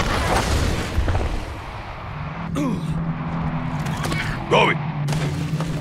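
Grenade explosions in the game Evolve sound as deep rumbling booms under a constant low drone, with a few thuds and pops, while voices talk over the action.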